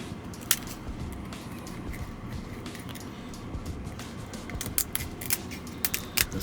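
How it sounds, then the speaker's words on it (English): Kitchen shears snip through a lobster tail shell, a series of sharp, close crackling clicks that come faster toward the end, set over a steady low rumble of background noise. "I brought some shears with me. So we're gonna go ahead and cut this shell."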